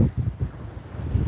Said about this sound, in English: it is crazy windy out here today